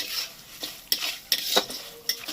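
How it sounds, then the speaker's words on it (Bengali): Gobindobhog rice stirred in hot oil in a pan, with a faint sizzle beneath several sharp scraping and clinking strikes of a spoon against metal, close and otherwise alone. "এটাকে পুরো তেলের মধ্যে ভালো করে ভাজতে হবে একদম লালচে হয়ে যাবে ভাজাটা"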